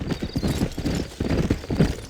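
Horse hooves clip-clop steadily in the Western video game Red Dead Redemption, a loud, close, brisk rhythmic patter that carries on without a break.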